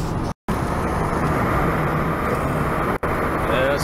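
A truck rolls slowly along a road at night with an old Lincoln AC225 welder tied down in the back, giving a steady, close broadband road rumble with two brief dropouts and no clear talk.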